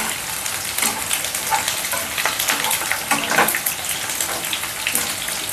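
Chicken pieces fry in a pan for an Andhra-style dry chicken dish with steady, close sizzling and crackling, and bursts of spattering oil throughout.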